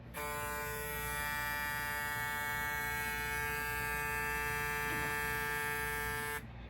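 A Stylecraft 360 Jeezy hair clipper runs alone with a steady, even electric buzz and hum, close and moderately quiet, holding constant for several seconds before switching off.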